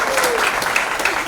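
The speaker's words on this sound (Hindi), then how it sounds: "अरे भाई जोरदार तालियां हो जाए." Loud, dense applause from a crowd at a book launch party, steady and close throughout, with a few voices and cheers mixed in.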